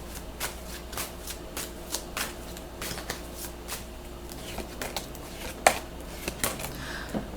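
Tarot cards are shuffled and drawn close up, a quick series of crisp riffling flutters and soft slaps repeating in irregular bursts.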